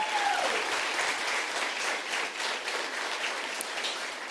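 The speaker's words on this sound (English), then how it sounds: "another round of applause, please, for our First Lady" Audience applause for the First Lady at a women's empowerment summit, a dense, steady wash of clapping from a large crowd sustained throughout, with a brief tonal whistle near the start.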